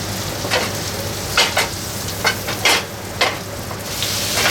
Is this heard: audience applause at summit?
no